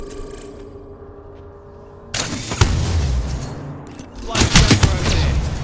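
Gunfire erupts in Apex Legends in two loud close bursts of rapid shots after a quieter stretch, with sharp cracks and booming echoes.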